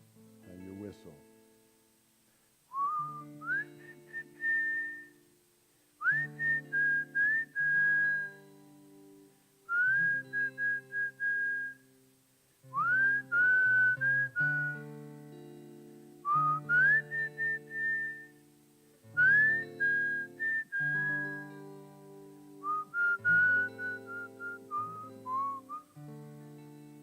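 A person whistles a melodic tune in repeated short phrases with rising, sliding notes, clear and close, during a Kabbalat Shabbat service, with a low hum of voices or accompaniment beneath.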